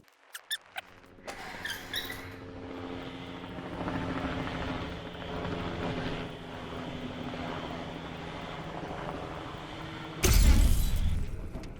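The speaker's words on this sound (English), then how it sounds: "There appears to be a helicopter flying by in real life" A helicopter flies by outside: a steady low, droning rumble that swells gently and holds for several seconds, fairly distant, ending in an abrupt louder burst of noise.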